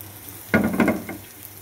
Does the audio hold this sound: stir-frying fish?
yes